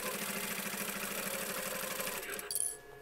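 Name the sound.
sewing machine stitching a fabric pencil case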